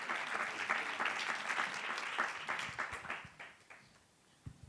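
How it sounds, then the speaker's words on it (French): Audience applause for three speakers at a French panel on breast cancer in young women: dense, steady clapping from a crowd that tapers off toward the end, ending in a few scattered claps. "merci de les applaudir donc, pour les Elena, Emmanuel et Aura"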